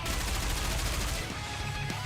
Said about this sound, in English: It sprays bursts of gunfire into likely hiding spots as it carefully scans the armory